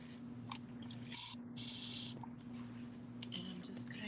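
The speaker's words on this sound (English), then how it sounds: "just spraying water into it, mixing it" Several hissing squirts from a spray bottle of water misting into homemade paint to reconstitute it, short bursts close by with faint soft voice underneath.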